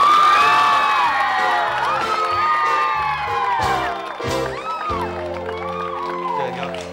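Girls screaming and cheering for a male star at a Thai entertainment show, a loud, dense crowd of high-pitched shrieks and whoops, with a sustained musical backing underneath.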